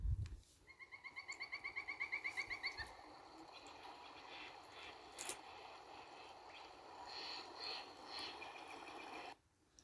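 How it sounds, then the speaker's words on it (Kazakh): Birds chirp in a natural outdoor scene over a steady wash of flowing water, with a quick rhythmic trill of calls at the start giving way to scattered, irregular chirps that carry on throughout. "Бұл шырылдап жатқан құстардың дауысы."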